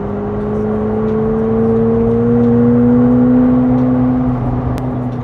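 A McLaren 750S sports car drones steadily while driving, its engine note a smooth sustained hum that rises slowly in pitch, loud and close from inside the cabin with no talk.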